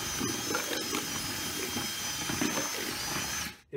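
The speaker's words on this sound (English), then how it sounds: "the paint mixer that I'm using attached to my cordless drill" A paint mixer on a cordless drill churns joint compound, a close, continuous motor whir with rhythmic slapping and scraping from the paddle, ending abruptly.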